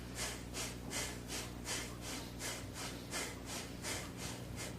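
Energizing breathing exercise: strong, rhythmic breaths repeating about every half second, close and loud, with no voices over them.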